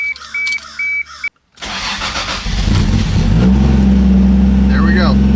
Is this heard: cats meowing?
no